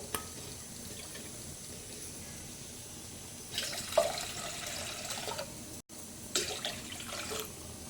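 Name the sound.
water poured into a pot for cooking rice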